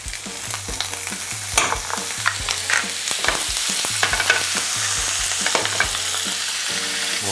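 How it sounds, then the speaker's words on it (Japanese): Sea bream fillet sizzles skin-side down in a hot pan with oil and melting butter, a loud close crackling fry punctuated by sharp spatters and pops over a low steady hum, no talking. "もう魚はもう動かさずにこのバターを溶かしていく"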